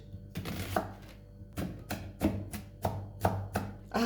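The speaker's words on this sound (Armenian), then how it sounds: "Սոխը ես այսպես մանրացրեցի։" An onion is chopped with a knife on a board, with close, crisp chops in short bursts and brief pauses between them, and no talking.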